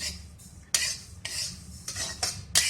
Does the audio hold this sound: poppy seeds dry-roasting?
yes